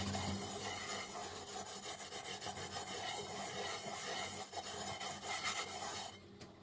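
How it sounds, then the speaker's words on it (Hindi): A pan being scrubbed with a cleaning mixture, giving a continuous close rasping rub in quick back-and-forth strokes that stops abruptly near the end. "इसी तरह से हम सिर्फ 1 मिनट और रब करेंगे।"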